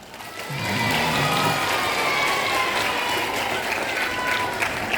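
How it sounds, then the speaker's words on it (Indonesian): An audience at a pesantren gathering breaks into sustained, dense applause that swells quickly and carries on steadily, loud and close. "Ya, tepuk tangan."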